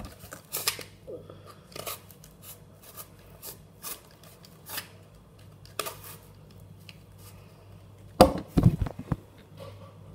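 Cardboard being cut by hand for a homemade cardboard gun, with scattered rasping scrapes and short snips across a quiet room, ending in a louder burst of cutting near the close.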